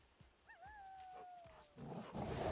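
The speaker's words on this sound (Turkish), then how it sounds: "Bak şimdi de köpeklerle uğraşıyoruz." Dogs in the online action RPG Undecember give a single faint, wavering whine-like howl, followed by rising noisy combat sounds.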